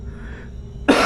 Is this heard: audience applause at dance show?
no